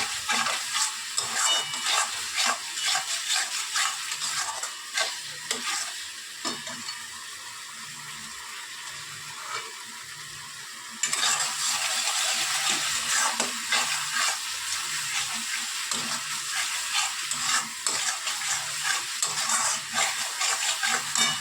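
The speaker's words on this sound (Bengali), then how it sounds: "এটা কিন্তু আমরা ভালো করে কষিয়ে নিচ্ছি বললাম যতক্ষণ না তেল ছাড়বে" Spice masala for a fish roe curry frying in oil and stirred steadily, a continuous near sizzle with scraping stir strokes throughout, no talk.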